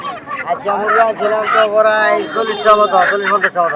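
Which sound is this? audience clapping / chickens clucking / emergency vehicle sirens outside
chickens clucking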